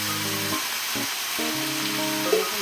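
Rice and chicken fry together in a pan for biryani, giving a steady close sizzle with a low tonal hum running beneath it.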